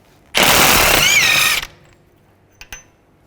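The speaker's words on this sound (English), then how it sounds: "Take this bolt off. You're going to use a 12-point socket" A ratchet wrench with a 12-point socket, 15/16 or 24mm, spins off a wheel hub bolt on a 2005-10 Volkswagen Jetta in one loud, continuous burst of rapid clicking, followed by a couple of faint metallic clinks.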